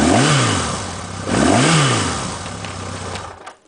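A 1979 Yamaha XS1100 motorcycle engine runs close and loud, rising in two quick revs, then settling back to a steady idle before cutting off sharply at the end.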